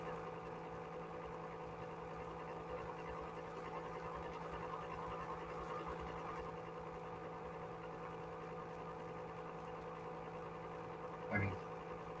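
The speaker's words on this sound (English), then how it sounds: "I'm gonna turn the vacuum on." A household vacuum cleaner running steadily in a room, a constant droning hum with a brief bump near the end, heard alone at moderate level.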